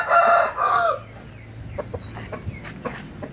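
A rooster, a fighting cock, crows twice in quick succession, loud and close, followed by faint scattered clucks and rustling.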